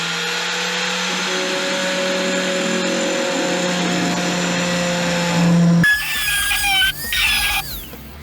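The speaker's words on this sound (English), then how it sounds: "I'm only going to grind off one nub because I don't want to be totally messed up with it." A power grinder cuts down the antenna nub on a 2001 Chevrolet Silverado, holding a loud steady whine before the pitch shifts into harsher scraping bursts near the end.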